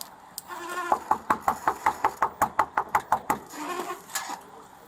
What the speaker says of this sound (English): Let me knock on it first